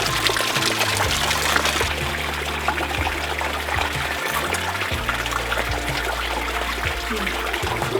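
Glacier water from a fountain on Matanuska Glacier pours into a water bottle in a continuous close gush, steady and fairly loud, with low rumbling underneath and no speech.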